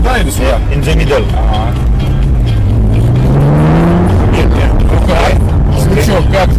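Ferrari California engine under way, a loud steady drone with a rising sweep in the middle of the clip as the car accelerates, heard alongside traffic and voices talking in the cabin.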